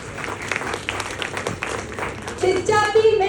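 Audience clapping at a Gurjar community poetry recital event in Indore, with steady, dense applause throughout and a tonal voice or music rising over it near the end.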